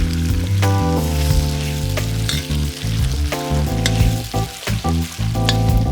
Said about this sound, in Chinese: 接下来热锅宽油，把肉块下锅滑散。